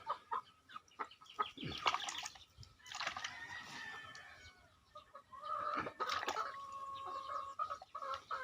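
A sick chicken with a cold and phlegm in its throat gives clucks and throaty squawks in irregular bursts at close range, with faint background noise between calls.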